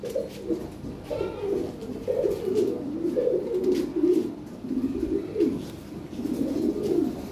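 Several Lahore pigeons cooing close by in a breeding loft, soft throaty rolling coos overlapping continuously, with faint background noise.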